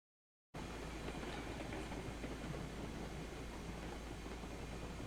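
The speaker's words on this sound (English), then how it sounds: "Trying to bring this big train down there." A big freight train rolls along the rails in the Railroads Online game while hauling lumber on a grade, a steady loud rumble and clatter that begins abruptly after a brief silence.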